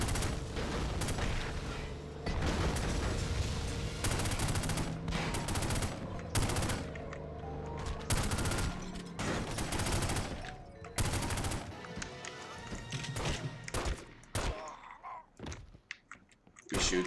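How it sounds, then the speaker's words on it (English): Gunfire rattles through The Godfather: The Game, rapid bursts of shots and repeated sharp cracks over a steady music bed, with gaps between volleys and a few isolated closing shots. "We shoot these two in the head because I'm too scared to run past them."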